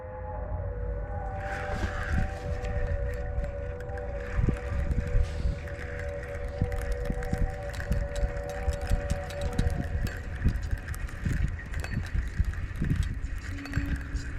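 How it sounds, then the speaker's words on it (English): A low, steady paddle boat steam horn with layered pitches drones on at moderate distance on a river, mixed with faint clattering and ambient rumble throughout. "It's like a steam horn from a paddle boat."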